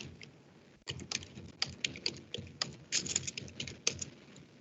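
Typing on a computer keyboard at close range, a quick irregular run of soft clicking keystrokes over quiet room tone.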